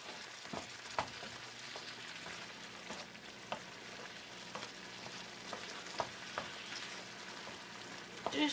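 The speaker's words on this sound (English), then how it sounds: "I'm just going to let it stir fry a little bit longer." Shrimp and vegetables sizzling in a stir fry pan, a continuous crackling hiss with scattered pops and occasional utensil taps, moderately close and without talk.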